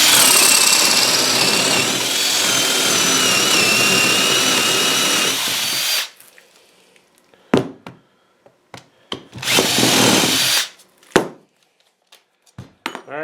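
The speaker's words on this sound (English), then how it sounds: "first I'm going to drill with a 3/4 spade bit, not all the way through." A 3/4 inch spade bit drilling into a wooden block, a loud, steady grinding whir for about six seconds, then a couple of short drill bursts and taps after it stops.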